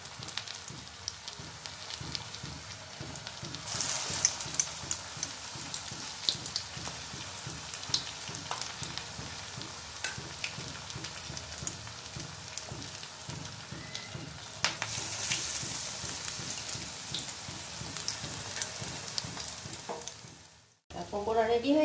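Batter-dipped pakoras of egg yolk and rice deep-frying in oil on low heat, a long close crackling sizzle that swells and eases, with faint clatter and an abrupt break near the end.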